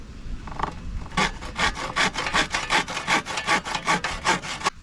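A handsaw cuts a square out of marine plywood with about fourteen steady, rhythmic rasping strokes, close and clear with no talking.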